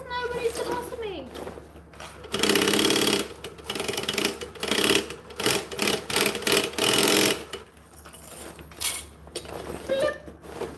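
A sewing machine stitches fabric in a home sewing room, with several loud, fast running bursts and brief stops between them, close by, while a person talks over and between the runs.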